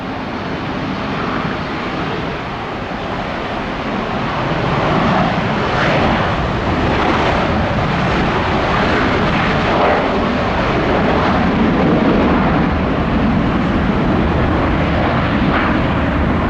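A jet airliner rolls for takeoff from runway 21 right at Detroit Metro Airport, a loud, continuous broadband engine roar that swells and holds steady throughout, heard alone without talk.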